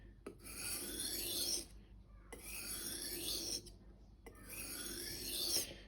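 A knife is sharpened on a wet sharpening stone. Three long, even rasping strokes sound close and clear, each separated by a short pause.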